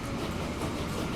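A train running in the Transport Fever 2 video game, a steady low rumble of wheels on track, continuous and fairly close, with no other sounds over it.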